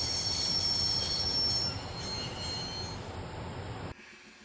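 A train in the Broken Sword video game brakes to a halt after the emergency cord is pulled, loud wheels squealing and grinding steadily before cutting off abruptly near the end.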